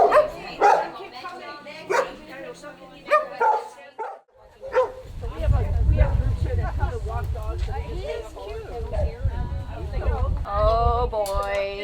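Several dogs bark, yip and whimper repeatedly at close range, with people talking and cooing over them against a low rumbling background.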